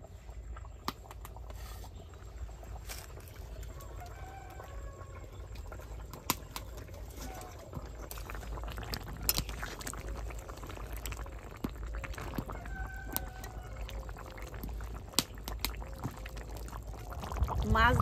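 Katla fish pieces go into a simmering zucchini curry, giving a soft pour-like splash and steady bubbling with a few clinks of utensils, close and moderate, with faint background noise throughout.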